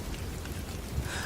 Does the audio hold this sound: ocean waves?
no